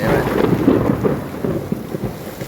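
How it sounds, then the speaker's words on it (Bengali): Thunder rumbles through a heavy rainstorm, a deep rolling boom over the steady hiss of falling rain, loud and continuous across the moment. "বজ্রপাত হচ্ছে তাড়াতাড়ি বাসায় চলে যায়"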